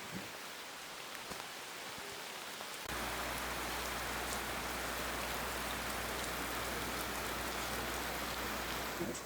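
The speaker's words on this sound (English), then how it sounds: "It's raining a lot. Like a lot. Huge drops. And a lot of it." Heavy rain with huge drops falling in the Costa Rican rainforest at dawn, a steady dense roar that thickens and grows louder after a few seconds, close and continuous with no voices.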